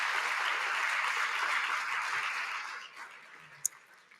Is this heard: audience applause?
yes